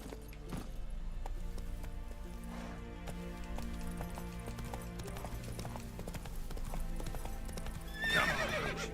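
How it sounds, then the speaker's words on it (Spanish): A video game horse gallops with rapid, continuous hoofbeats, and a loud neigh breaks out near the end over a droning background score. "mi caballo"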